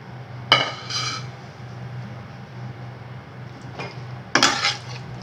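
Cooked noodles being stirred in a pan for homemade mie goreng, with two clusters of metallic scraping and clinking against a low steady hum, separated by a quiet stretch.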